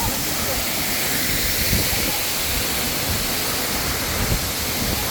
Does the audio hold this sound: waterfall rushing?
yes